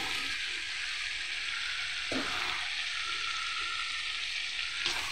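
Potatoes cooking in sizzling masala in a pan, an even hiss of frying oil with a couple of faint knocks.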